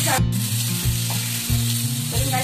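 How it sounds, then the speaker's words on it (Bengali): Loud, continuous sizzling of pumpkin and potato frying in a pan, with occasional soft scraping as the pieces are stirred. "আমার কুমড়ো আলু কিন্তু মোটামুটি বুঝতে পারছি ভাজা হয়ে গেছে"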